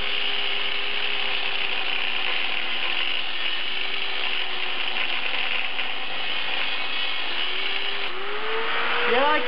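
Angle grinder cutting notches into steel pipe for a turbo manifold on a 1976 Mazda RX-5 Cosmo, a loud continuous high whine with steady grinding hiss throughout, pitch shifting near the end as the disc slows.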